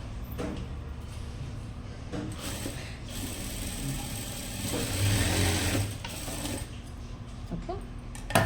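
A sewing machine runs a double stitch on a blouse, a steady close mechanical whir that swells briefly midway and continues alone without talk.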